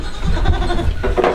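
Goats and young kids bleat in a barn at bedtime, a few short close calls rising over a low rumbling background, with no talk.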